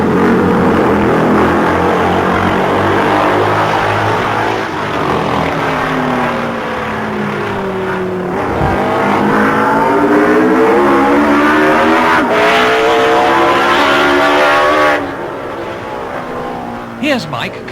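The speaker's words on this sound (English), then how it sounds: "Here's Mike completing lap 1 at 95 miles an hour" Racing motorcycles at speed on a road-racing lap, a loud engine whine rising and falling as they close in and sweep past, with a commentator talking over much of it.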